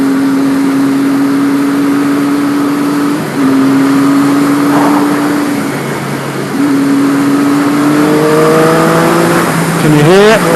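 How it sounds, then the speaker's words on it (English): A Triumph three-cylinder motorcycle engine runs with a steady drone that dips and returns, then climbs in pitch as it revs near the end, heard from the riding position amid wind noise. "That's a Triumph, baby. That is a Triumph 3-cylinder engine."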